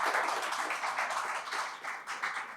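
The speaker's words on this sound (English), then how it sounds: "Let's show our gratitude with a big round of applause to our wonderful" An audience applauds panelists at a technology event, steady clapping that carries fairly evenly for a couple of seconds with slight swells and dips, moderately loud and without voices over it.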